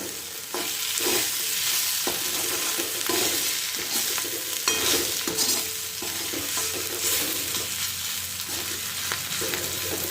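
Eggplant bharit with peas is stirred in a pan right after the lid comes off, bringing a steady frying sizzle with repeated scraping and spatula strokes at an uneven rhythm, fairly close and loud.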